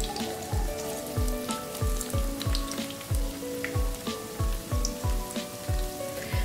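Marinated cauliflower pakora fry in a kadai over a medium-low flame, giving a soft, continuous sizzle with crackling spatters and a faint, regular low knocking underneath.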